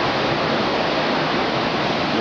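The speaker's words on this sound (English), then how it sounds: "The wind's still blowing" Strong hurricane wind roars at Wrightsville Beach, a dense, unbroken rushing noise that stays loud and close throughout with no voices.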